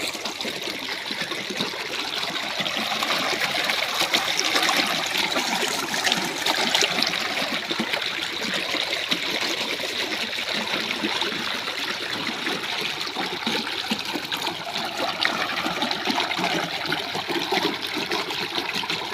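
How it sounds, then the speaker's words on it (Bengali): Irrigation water gushes into a rice paddy field, a steady loud broadband rush and splash that runs unbroken throughout, with no voices. "প্রচণ্ড পানি হচ্ছে এভাবে জমিতে চলে যাচ্ছে পানি"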